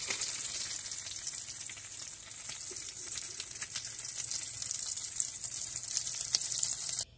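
Dried shrimp fry in a pan with a dense, steady crackling sizzle that holds evenly close by, swelling slightly louder toward the end before cutting off, with no voices.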